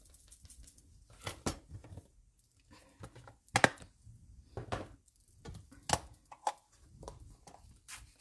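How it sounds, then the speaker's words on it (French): Paper being cut to size with scissors for a stamped card label, several quiet snips and rustles spaced apart, close and faint, without speech. "Et je vais venir le couper à la bonne taille."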